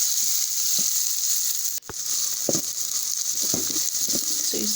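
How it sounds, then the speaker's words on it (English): Ginger and garlic fry in a pan with a steady, close sizzle, broken by scraping stir strokes and one brief dip as they are mixed for chicken pilau. "give it a nice stir"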